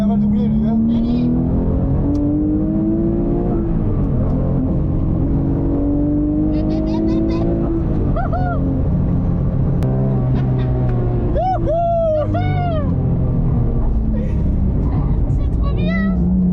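A Porsche GT3 RS races on a circuit and moves to overtake, its engine loud and close, rising and falling through gear changes while a passing car sweeps by; people talk excitedly over the engine noise.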